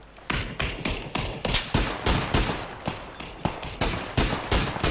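Gunfire in a team-based shooter video game: a rapid series of sharp, loud shots in quick, fairly regular succession, roughly a dozen reports over a few seconds, with no talk.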